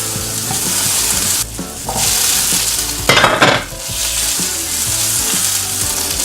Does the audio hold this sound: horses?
no